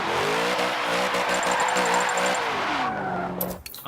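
A 1994 Nissan Silvia K's drift build in Forza Motorsport 7 holds a long slide, its engine revving loudly under a sustained squeal of tires, then the engine note drops and the slide ends in brief scuffs.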